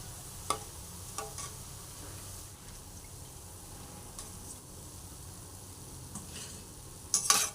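Boondi batter drops fry in hot oil in a home kitchen, a faint, steady sizzle with occasional stirring clicks and soft scrapes scattered through it, plus a brief clatter near the end.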